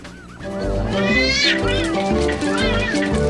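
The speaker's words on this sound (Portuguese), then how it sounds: "A briga de gatos, gente, olha só." Cats fighting, with rising and falling yowls and caterwauling cries over a busy, noisy background of overlapping voices and broadcast sound.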